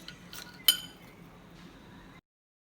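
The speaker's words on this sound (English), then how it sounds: "now we are going to use a spoon, add the protein mix stuff" A metal spoon clinks a few times against a dish while protein mix is spooned into a tart, short bright taps in a quiet room with a faint scrape trailing after.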